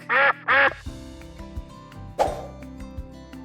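A duck gives two loud, clear quacks in quick succession, followed by a soft plop and light musical backing in a children's animal game.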